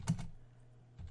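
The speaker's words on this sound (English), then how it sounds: "You do that by typing in" Typing on a computer keyboard at a Windows command prompt, a couple of quick close key taps, a quiet gap, then another tap, with no talking.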